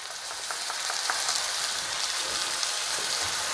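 Ground tomato hits a hot pan and sizzles steadily, a bright, close hiss with fine crackling pops that holds at an even level throughout, with no talking.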